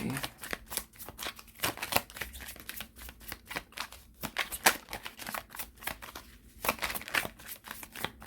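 Someone shuffles a tarot card deck by hand, producing rapid bursts of crisp riffling snaps in uneven clusters over several seconds, close to the microphone, with brief pauses between shuffles.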